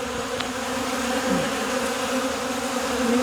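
Honey bees buzz on a shed floor in a close, continuous drone, with a few wingbeat pitches rising and falling over it.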